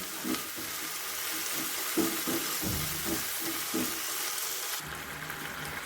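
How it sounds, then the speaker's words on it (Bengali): Tomato, green chili and chili powder being sautéed into a spiced masala in a pan for a Bengali tangra fish curry, a steady close sizzle with soft stirring scrapes running throughout. "টমেটো, কাঁচা লঙ্কা, লঙ্কার গুঁড়ো দিয়ে ভালো করে আবার কষিয়ে নেব।"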